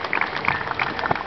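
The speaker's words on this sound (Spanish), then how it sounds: "Aplauso también para él." Graduation ceremony audience applauding a graduate, a short burst of scattered clapping from a crowd in a hall, moderately loud and uneven.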